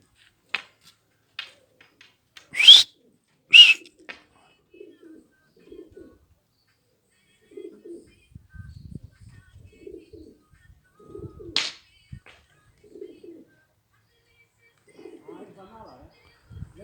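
Soft pigeon coos come in short repeated bursts through the clip, with a few sharper bird calls and light background noise between them.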